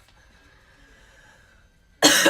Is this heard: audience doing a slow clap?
no